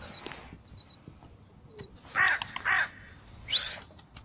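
A crow gives a few loud, harsh caws close by, in a bunched pair and then a final sharp call, over faint bird chirps and a quiet outdoor background.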